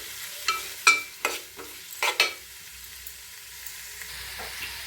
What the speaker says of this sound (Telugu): ఇప్పుడు ఇందులో ఈ టైంలో మనం ఆనియన్స్ వేగుతున్నాయి కదండి